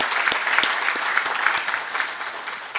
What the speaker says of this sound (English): let's give a big hard applause to our panelists